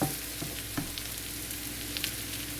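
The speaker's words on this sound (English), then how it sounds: "add the minced garlic and continue stirring until the garlic releases its aroma and flavor" Minced garlic sizzles softly in olive oil as it is stirred, a continuous low frying hiss broken by a few sharp scrapes and taps of the utensil against the pan.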